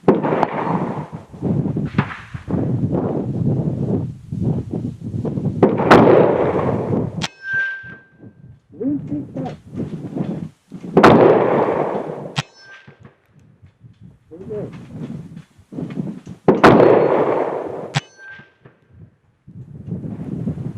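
Sharp rifle reports from Magtech 5.56 77-grain OTM rounds are each followed by a bright metallic ring as the bullets strike steel targets, several shots spaced irregularly across a long outdoor string, loud and close.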